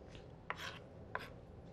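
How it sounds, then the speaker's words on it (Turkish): A knife chops food into small pieces for Turkish chicken ezogelin soup on a board, two sharp cutting strokes spaced apart, close and fairly quiet. "Şöyle minik minik doğruyoruz."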